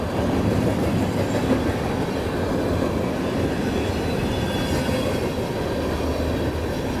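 A model freight train with a Dash 8 locomotive and mostly tank cars rolls along a layout, producing a steady, dense rumble of wheels on track that stays loud and even throughout.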